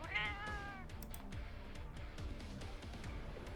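A voice imitates a cat with a short high meow at the start, followed by quiet game background noise with scattered clicks.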